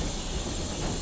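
A steady hiss of escaping steam from a steam locomotive injector with a faint high singing whine running through it, continuous and fairly close, with no voices.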